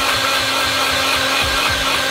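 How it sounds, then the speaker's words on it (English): Kitchen blender running while making monkfish bites, a loud continuous whirring motor drone with a steady hum and slight shifts in pitch, no talk. "Right, blender."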